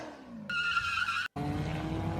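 Diecast toy race cars speeding down a divided straight of a racing track: a rising rolling whir, then a sharp jump to a loud, bright whine, a brief dropout, and a continued rumbling roll.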